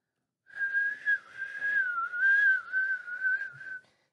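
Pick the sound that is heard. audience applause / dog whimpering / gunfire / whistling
whistling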